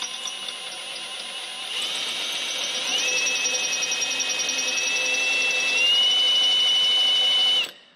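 A high-pitched whining drill bores into a metal turbo housing on a BMW N54 engine, its tone rising and grinding steadily louder for several seconds before stopping abruptly.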